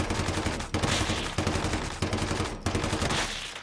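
A purple SCAR fires rapid, loud, sustained automatic bursts in a looter-shooter game, with brief pauses between the volleys and no talking.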